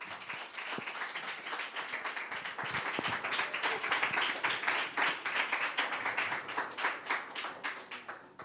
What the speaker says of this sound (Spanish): Pido un fuerte aplauso para Máximo Pérez Villalba.